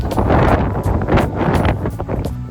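Strong outdoor wind at an art festival, roaring and buffeting the microphone in loud continuous gusts with rustling, no voices.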